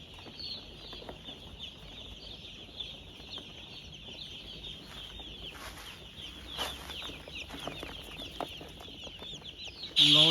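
A batch of about 800 newly delivered chicks peeps in a continuous, dense high chorus, close by, with faint thumps and a loud burst at the very end.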